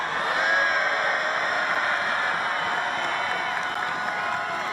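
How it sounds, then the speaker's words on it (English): A crowd cheers and shouts at a New York political speech, a sustained roar of many voices heard at a distance, steady and fairly faint throughout. "that's a very small crowd"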